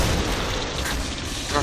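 A rocket explodes in the Killing Floor Ice Cave map during the Hillbilly Horror Halloween event, a dense sustained low rumbling boom with a small burst near the end, loud and close.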